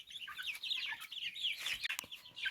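Native hen chicks about two and a half months old, peeping and clucking in a continuous, fairly close chorus of high chirps with no talk over them.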